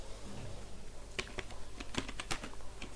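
Someone types terminal commands on a computer keyboard, producing irregular, crisp keystrokes in small bursts close to the microphone, with a few louder key presses and no talking.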